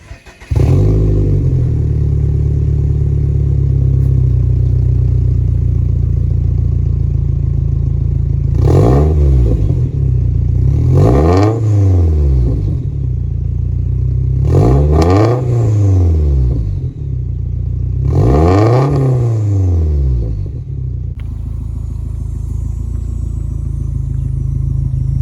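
A Subaru STI with a Cobb titanium catback exhaust drones loudly from up close at a steady low idle and cruise, then revs hard four times in rising and falling sweeps before settling back.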